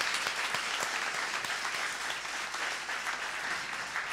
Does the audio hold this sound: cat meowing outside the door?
no